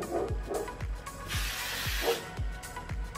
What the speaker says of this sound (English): And then of course you're going to want to spray your bun nice in place.